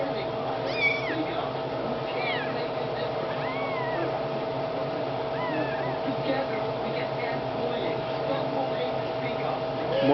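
Orphan kittens meowing in repeated high, wavering cries over a steady low hum, with a person speaking softly in the background.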